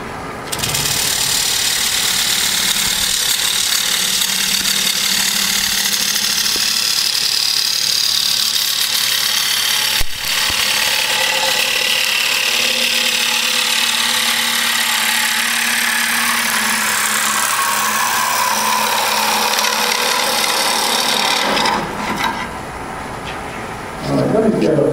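A lathe tool cuts ash wood, giving a continuous loud scraping hiss with a steady mechanical hum beneath, held for about twenty seconds before easing off near the end.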